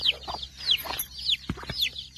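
Two hens cluck low and soft among about thirty chicks, whose high thin cheeps repeat over and over nearby in a farmyard, with no talking.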